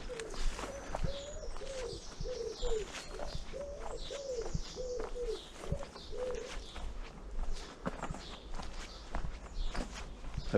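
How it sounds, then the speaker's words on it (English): Morning birdsong outdoors features a pigeon or dove cooing in a repeated series alongside scattered chirps, while close footsteps crunch steadily on the ground throughout. "Hopefully you've been able to enjoy a little bit of the bird song in the background"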